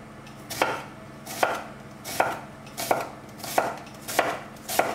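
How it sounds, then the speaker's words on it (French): A knife chops an onion on a cutting board in a home kitchen, seven crisp, evenly spaced strokes in a slow, steady rhythm, close and clear with no talking. "On va couper l'oignon."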